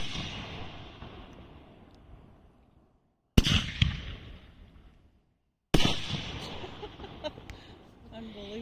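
A NOAB firework by Brothers Pyrotechnics, the Stoked model, goes off outdoors for the Fourth of July, with sharp loud cracks and booms that fall away into rumbling tails and crackle, while people talk between the blasts.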